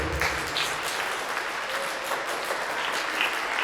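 Students applaud a retiring teacher at a school honoring her 50-year career, a steady wash of many hands clapping from a crowd at moderate distance, continuous and even throughout.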